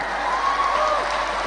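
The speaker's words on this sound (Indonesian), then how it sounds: "tepuk tangan semua" An audience of women claps together, a steady wash of applause heard at a distance through a public-address setting.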